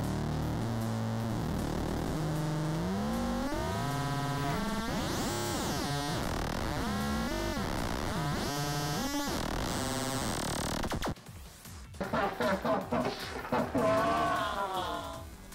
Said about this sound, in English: I'm going to drive a second oscillator into it, so it'll sound like this.